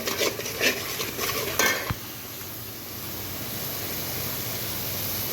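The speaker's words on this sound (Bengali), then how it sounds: "মরিচ হলুদ দিয়ে ভালোভাবে কষিয়ে নিচ্ছি" Spices with chili and turmeric fry in a pan while being stirred for a prawn and bitter gourd dish, scraping and clinking of a utensil against the pan at first, then a quieter steady frying hiss.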